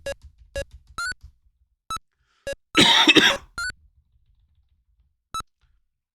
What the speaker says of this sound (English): I do apologise for my cough.